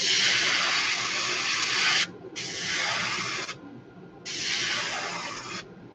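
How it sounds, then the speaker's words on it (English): An airbrush sprays paint through loofah mesh held flat in a cross-stitch loom onto a fishing lure to paint scales, making three steady hissing bursts with short pauses between them. "Just don't move it while you're spraying."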